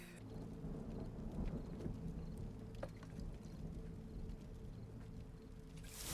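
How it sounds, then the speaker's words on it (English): Rain falls steadily during a thunderstorm in a TV show, with low rolling thunder rumbling underneath and a brighter burst of rain noise at the end. "Storm's coming."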